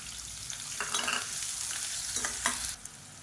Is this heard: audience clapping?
no